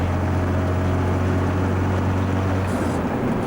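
A 1981 Volvo F12 truck's diesel engine climbs to about 2000 rpm on flat road, a steady loud low drone with a constant hum that holds evenly throughout, heard from inside the cab without anyone talking.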